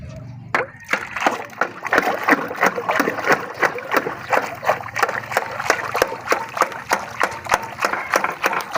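Water poured and splashing in repeated sloshing bursts, loud and close, with rhythmic splattering hits over a steady wet background.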